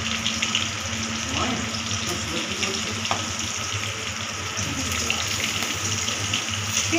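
Nigella seeds tempering in hot oil for a home lunch, stirred in the pan: a steady close hiss of frying with a few faint scraping clicks throughout.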